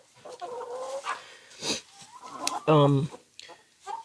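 Several chickens cluck and squawk nearby in short agitated bursts, with one louder, drawn-out squawk midway; a voice murmurs faintly among them.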